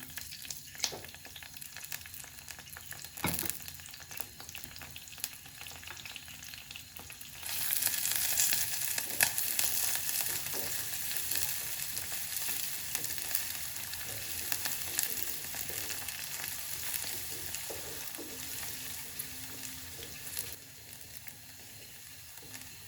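Curry leaves, pandan and onions hit hot oil for a village-style beetroot sambol, giving a steady crackling sizzle that swells louder partway through and holds, close and alone without talk.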